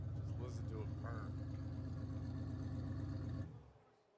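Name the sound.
Plymouth Grand National car engine purring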